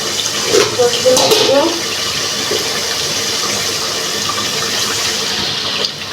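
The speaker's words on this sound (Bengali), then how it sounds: "পানি দিলাম শুধু যাতে লেগে না যায়" Water pours loudly and continuously into a cooking pot holding country chicken and potatoes, a steady rushing splash, with a brief voice near the start.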